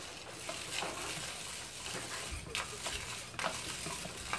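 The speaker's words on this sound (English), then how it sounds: "Bob, take your spoon and mix it up" A spoon stirring a homemade confetti party potion in a container, giving a steady scraping, swishing texture with faint crackly sparkle over about four seconds, fairly quiet, with no talking.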